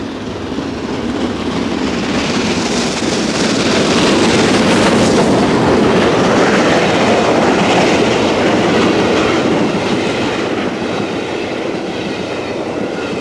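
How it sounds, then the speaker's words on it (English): Steam locomotive 4472 Flying Scotsman passes with a loud, building roar and rhythmic clatter of wheels and carriages, swelling at the midpoint and then easing, with no talking. "4472, the Flying Scotsman"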